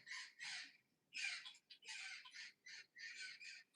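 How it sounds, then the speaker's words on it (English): Birds squawk and chatter in a rapid series of harsh calls, fairly close and continuous, with no talking. "I can hear the birds."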